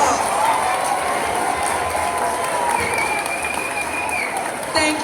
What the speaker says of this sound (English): Parents, let's give those kids a round of applause.